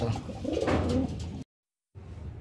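Racing pigeons in a loft during a first-lap derby coo steadily and nearby, a dense, throaty burbling that cuts off abruptly into silence before resuming.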